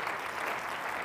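Steady applause from a lecture audience honouring a former provincial premier, a dense, even patter of many hands filling the short moment without any break or voice on top.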